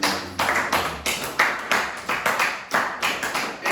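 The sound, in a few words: congregation clapping in church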